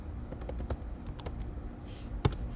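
A computer keyboard is typed on close by, giving a quick run of light, irregular key clicks with a slightly louder final keystroke near the end.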